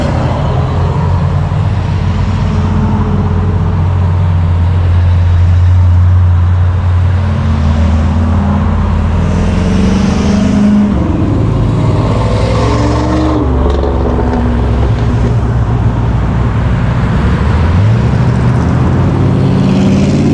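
Pontiac Firebird Smokey and the Bandit cars on a Bandit run rumble past close by, loud V8 engines droning and rising in waves as several cars go by, with some revving.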